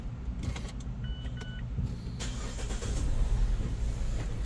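A car engine with swapped fuel injectors, cranking and catching into a steady low idle rumble after an initial whir, fairly quiet and recorded close, with no talk.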